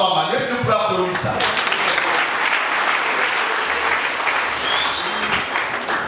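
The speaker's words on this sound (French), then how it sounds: "Est-ce que vous pouvez applaudir ça?" An audience applauds a first doctoral graduate, dense continuous clapping throughout, with a voice briefly heard at the start.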